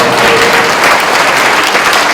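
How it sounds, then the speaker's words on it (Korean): A large seminar audience claps loudly and continuously, a dense, close wash of applause filling the hall without any speech. "박수 치셔야죠"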